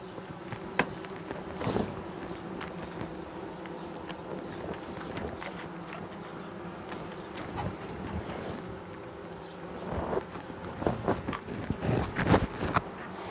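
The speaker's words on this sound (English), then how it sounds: "you can see the bees there, they're standing outside the hive and fanning their wings" Honey bees fan their wings outside the hive, making a continuous close buzz with individual bees droning past the microphone and occasional wind rumble.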